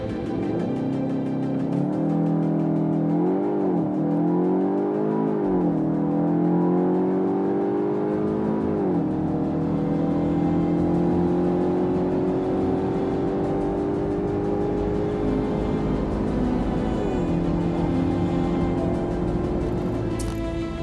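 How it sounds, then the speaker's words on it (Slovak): A 2024 Cupra Formentor VZ with a 2.0 TSI engine accelerates hard to 100 km/h, its engine note climbing through several gear changes with brief dips, loud and continuous from inside the car. "Sledujte akceleráciu na stovku hrávo pod 5 sekúnd."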